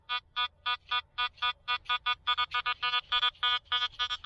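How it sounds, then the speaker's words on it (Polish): Metal detector on a beach sounds a one grosz coin with a rapid train of about twenty evenly spaced electronic beeps, close, loud and alone. "Sygnał na jednego grosza."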